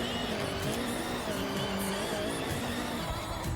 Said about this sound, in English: Alright, so the e-brake drifts are a little extreme in this car.